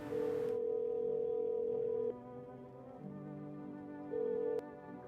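Telephone dialing tones in a video game, a steady electronic tone sounding in two longer bursts with a quieter hum between them, clear and alone with no talking.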